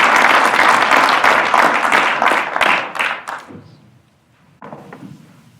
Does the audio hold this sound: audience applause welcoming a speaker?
yes